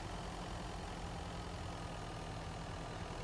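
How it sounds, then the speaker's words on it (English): A vehicle engine idles in the survival video game Mist Survival, a steady low rumbling drone that holds constant throughout with no other sounds. "Turn that engine off."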